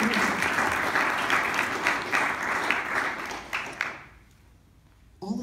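A large audience applauds loudly and steadily for nearly four seconds at a live wildlife-DJ performance, then the clapping fades away and a brief burst returns at the very end.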